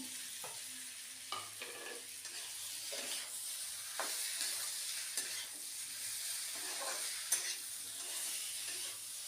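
Chopped potatoes fry in a pan for jackfruit curry, a soft, steady sizzle broken by irregular scraping stirs, close but fairly quiet, with no talking.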